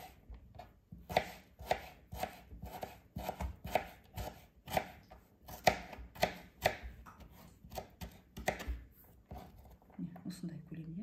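A knife chops potatoes into thin pieces on a board with quick, rhythmic, close taps, faint and evenly spaced.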